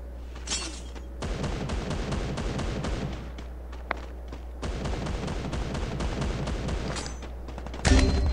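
Rapid bursts of gunfire and booming shots from a first-person shooter video game, sustained volleys with brief gaps and a loud closer blast near the end, no talking over them.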